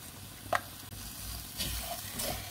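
Garlic powder hitting a hot pan of seafood rice for a paella-style dish, giving a soft, steady sizzle with a few brief stirring scrapes, close and fairly quiet, no talking.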